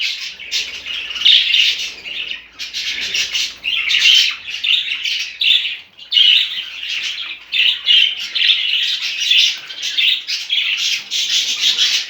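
Several pet budgerigars chirp and squawk almost nonstop in a home breeding setup, loud and near, overlapping high warbling calls with no talk.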